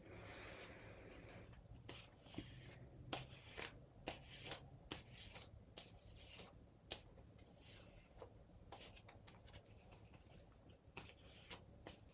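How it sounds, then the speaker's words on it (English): Tarot cards being shuffled by hand, a steady run of soft papery riffles and snapping flicks in a quiet room, close and moderately loud with no talking. "We're just shuffling the cards right now."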